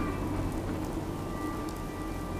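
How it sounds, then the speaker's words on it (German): Steady rain falling in the video game Fallout 4, an even, continuous hiss of drops at constant loudness with no voices over it. "Jetzt regnet's."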